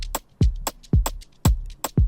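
An Afrobeat drum loop built in FL Studio with an added shaker: deep booming kicks fall on a steady bouncing pulse, with crisp high percussion and light shaker rattles between them.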